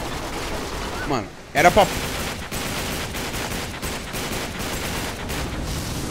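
Enemy gunfire crackles in bursts during a firefight in Uncharted 3: Drake's Deception, with several sharp shots clustered near the middle while someone talks over the action.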